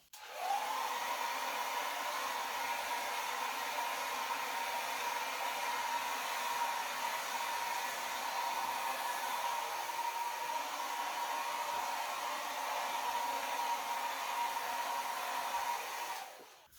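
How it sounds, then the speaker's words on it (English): A Babyliss 1200 watt travel hair dryer runs on its low speed setting, a steady close whooshing airflow hum held at an even level for about sixteen seconds, starting and stopping abruptly. "I'm using a Baby Bliss travel hair dryer. It's 1200 watt, low and high speed."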